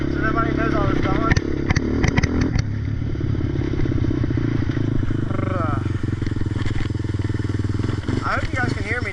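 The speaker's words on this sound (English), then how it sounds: "you probably can only hear the Raptor motor considering where the little GoPro is" A Yamaha Raptor engine drones steadily up close through the ride, loud throughout, with clattering and scraping from the trail and brief voice sounds now and then.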